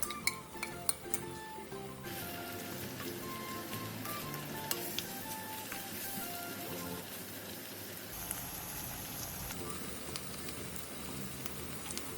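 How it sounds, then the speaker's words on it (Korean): Squid, onion, minced garlic and soy sauce stir-frying in a pan for Korean squid radish soup, with a steady sizzle and scattered clinks and scrapes of a utensil against the pan, close and continuous, no talking. "그 다음 양파, 오징어, 다진 마늘 1, 간장 1을 넣고 오징어의 살이 통통하게 차오를 때까지 볶아주세요"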